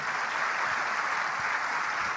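A church congregation applauds during a sermon, the clapping dense and steady from start to finish with no pauses and no talk over it.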